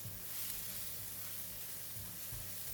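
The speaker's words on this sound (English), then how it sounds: "Give it a stir until garlic is golden brown and crispy." Chopped garlic fries in hot cooking oil in a pan, stirred until golden brown and crispy, giving a quiet, steady sizzling hiss throughout with a few soft low knocks and no talking.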